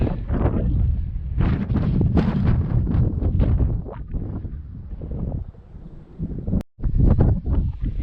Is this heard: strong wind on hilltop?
yes